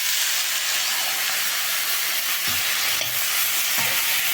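Steady loud sizzling and hissing of onions and tomatoes sautéing in a pan for a bean curry, with occasional soft stirring clunks, no voices.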